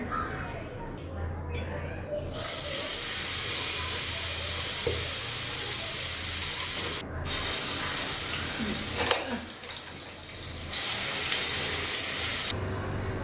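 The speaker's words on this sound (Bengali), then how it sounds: "রসুন পেঁয়াজ একটু ভাজা নিছি" Garlic and onion frying in a pan give off a loud, steady broadband sizzle that runs for about ten seconds, with a brief drop partway through and quieter room sound at either end.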